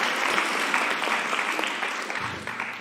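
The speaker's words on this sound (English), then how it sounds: "let's give a round of applause" An audience at a live talk event bursts into applause, a dense, steady wash of many hands clapping that carries evenly through the whole stretch.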